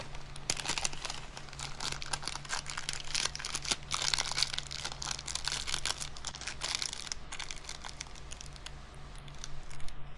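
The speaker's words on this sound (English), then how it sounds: "I fold the paper over." Parchment paper crinkles and crackles steadily as it is folded over a few grains of mastic, a close, continuous papery rustle lasting throughout with no talking.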